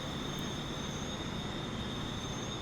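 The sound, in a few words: train running on upgraded tracks in the video game Transport Fever 2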